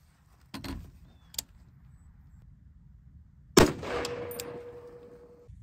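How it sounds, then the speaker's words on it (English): Outdoors, a Leviathan Defense AR-10 rifle fires .308 M80 ball: an earlier sharp crack and a small tick, then one loud close shot with a ringing, decaying tail, and no talking. "I'm shooting M80 ball out of this Leviathan Defense AR-10."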